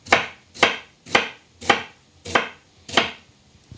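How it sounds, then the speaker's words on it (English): Knife chopping washed cabbage finely on a board, six evenly spaced sharp chops about half a second apart, close and distinct with no talking. "I'm gonna chop this up pretty fine because I find cabbage needs to cook down"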